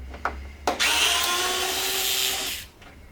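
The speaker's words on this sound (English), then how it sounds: "So get these screws out." A power tool whines steadily as screws come out of a VF Commodore headlight, preceded by a couple of short clicks and taps, then winding down near the end; fairly close and loud with no talking.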